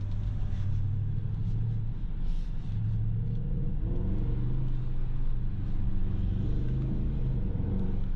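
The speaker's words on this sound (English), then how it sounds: "you can just open that exhaust in comfort mode and just enjoy that glorious V8 sound" A Mercedes GLE with a V8 engine and its exhaust valves open, cruising in comfort mode with a steady low rumble and gentle rises in pitch, heard continuously from inside the car, with no speech.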